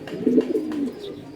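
A pigeon pairing up in hot weather gives one close, throaty coo that swells and then trails off, alone and fairly loud.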